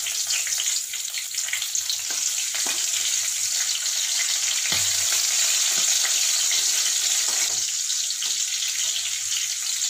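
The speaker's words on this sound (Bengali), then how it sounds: "তেল গরম থাকতে থাকতেই এবার গোটা সাদা জিরে এবং কালো জিরে গরম তেলে ফোড়ন দিয়ে দিলাম।" Whole cumin and nigella seeds spit and crackle in hot oil, a steady bright sizzle with a few sharper pops, loud and close with no voices.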